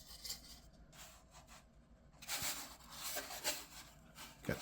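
Faint rubbing and scraping of sandpaper on a foam and plywood model airplane tub, in irregular strokes with short pauses and a few sharper scuffs near the end.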